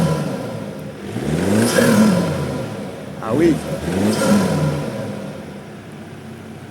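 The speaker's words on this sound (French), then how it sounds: "C'est pas le bruit d'un 6 cylindres, ça reste le bruit d'un 2 litres essence, mais je trouve que ça chantonne pas mal." A BMW F30 LCI with a 2-litre four-cylinder petrol engine revs up twice, the pitch climbing and falling each time, with people talking over and around the engine.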